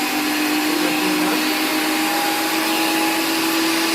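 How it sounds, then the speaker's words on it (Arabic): An electric meat grinder runs continuously with a steady, loud whine and hum while grinding falafel ingredients such as onion and garlic, with no pauses or talk. "الآن نبدأ بطحن المكونات"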